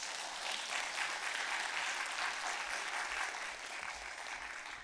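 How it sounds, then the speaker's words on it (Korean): Steady applause from an audience at a church women's worship service, welcoming a pastor to the front; dense, even clapping holds for about five seconds, fading slightly at the end, with no speech over it. "나오실 때 박수로 환영해 주십시오."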